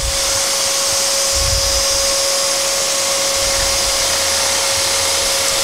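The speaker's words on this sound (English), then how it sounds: "Just checking the extraction port there." Dust extractor running with steady suction at a woodworking bench, a loud, constant whooshing roar with a fixed whining tone and no pauses, no speech over it.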